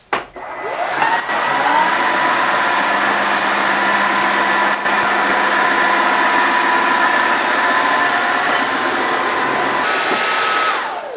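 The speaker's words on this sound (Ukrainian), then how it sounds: "Побачимо, коли ми пройдемося по ним пилососом, чи заплутаються вони на ролику цієї щітки." A Dreame H15 Mix wet-dry vacuum cleaner runs over dental floss on a floor, its motor spinning up quickly into a loud, steady whine with a rolling brush drone, close and unbroken before winding down at the end.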